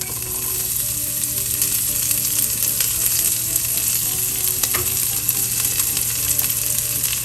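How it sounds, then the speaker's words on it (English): Garlic added to cumin seeds in hot oil sizzles and crackles steadily and loudly, a dense continuous frying hiss throughout with occasional sharper pops. "Then you will add in the garlic,"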